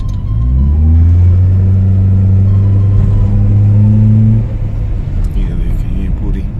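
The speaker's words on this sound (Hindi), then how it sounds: "रेस देते हैं तो इसके इंजन में से बड़ी अजीब सी आवाज़ आती है।" Engine of a 2006 Mitsubishi Lancer revved under throttle, with a loud, deep, steady droning hum that holds for several seconds, then drops away to a lower idle rumble.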